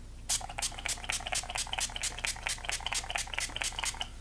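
A rapid series of short, hissing spritzes of rose water facial setting spray repeats steadily for several seconds over a low background hum, close to the listener.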